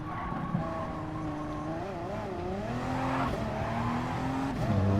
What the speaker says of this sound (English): Really hammering the car through that exit.